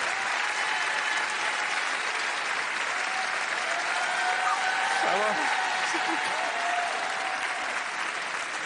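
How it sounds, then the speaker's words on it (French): Audience applauding steadily as a broad wash of clapping with crowd noise, while a voice speaks briefly over it. "on peut l'applaudir, mesdames, messieurs"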